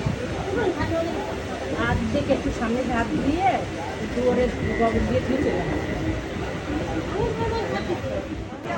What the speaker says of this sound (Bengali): এই দেখো শান্তিপুর স্টেশন থেকে আমাদের ট্রেন